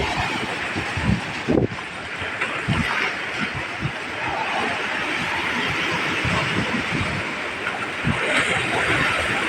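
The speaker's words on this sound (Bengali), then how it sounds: "সরে একটা ঢেউ আসলে মেয়েটা ভিজে যাবে।" Ocean waves breaking on a beach, a loud continuous surf roar with rushing swells and a brief thump near the start, no talking.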